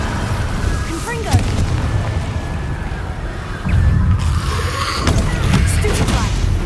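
Confringo explosive spells cast in the Hogwarts Legacy video game, heavy booming blasts going off repeatedly over a dense rumbling battle backdrop, with a voice shouting incantations amid the noise.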